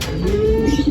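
A racing pigeon at a derby loft coos close by, a soft low gliding call followed by a few quick pulsing notes.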